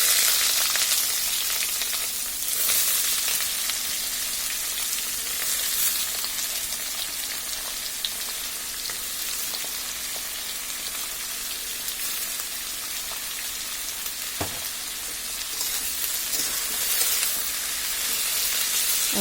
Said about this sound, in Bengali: এখন আমি এর মধ্যে যে করলাগুলো কেটে রেখেছি সেটার মধ্যে দিয়ে দিচ্ছি।